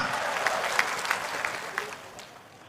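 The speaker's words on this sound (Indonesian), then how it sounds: "Tepuk tangan buat Indonesia." An audience at a comedy event with President Jokowi claps in lively applause for Indonesia, a dense crowd sound that gradually fades over a few seconds.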